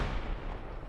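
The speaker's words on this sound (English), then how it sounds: "I believe they're calling in some artillery or mortars" Artillery or mortar fire booms in a WWII Iwo Jima combat video game, a brief, heavy, rumbling blast that fills the moment with dense low-end roar, no voices over it.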